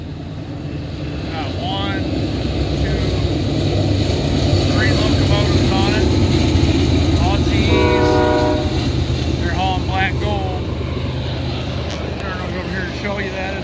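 Westbound Norfolk Southern freight train accelerating past Oak Harbor, Ohio, its loud rumble and wheel noise building steadily, with a long horn blast sounding mid-way.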